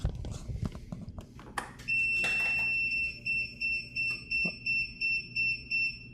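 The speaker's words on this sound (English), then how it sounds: "that first beep was the audible beep from the blind spot detection system" An INNOVV Third Eye blind spot detection system gives an audible warning: a short beep, then a sustained tone and a steady run of evenly spaced electronic beeps, loud and close inside a vehicle cabin with faint road noise beneath.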